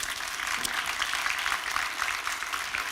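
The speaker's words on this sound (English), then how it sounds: "if I can just ask the audience to give you a round of applause" A conference audience applauds a panel at the GlobeSec Forum 2025 on the Havel stage, a dense, steady wash of clapping from many hands that holds evenly for the full stretch with no talk over it.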